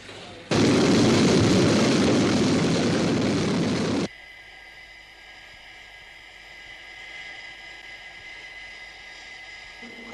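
The Sky 1 interceptor jet roars in a loud, broad rushing blast for about three and a half seconds, then cuts off abruptly, leaving a quieter steady cockpit drone and hiss.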